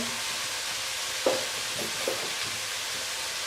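Chicken keema with garam masala, turmeric, red chilli and crushed dried coriander being fried and stirred in a pan, giving a steady soft sizzle with a few faint scraping stirs.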